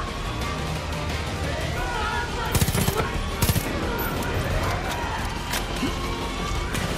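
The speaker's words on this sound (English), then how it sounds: "So that machine gun isn't going anywhere." Machine gun fire in the video game Far Cry 5: two short, sharp bursts of shots stand out over busy game noise, with a voice talking throughout.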